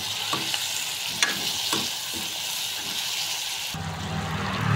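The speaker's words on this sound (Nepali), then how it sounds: "प्याज रातो भएपछि यो टमाटरलाई पनि मैले हालेँ यहाँनिर।" Onions and tomatoes fry in a pan with a steady sizzle, broken by a few scraping stirs, close and moderately quiet, and the texture changes near the end as the frying shifts.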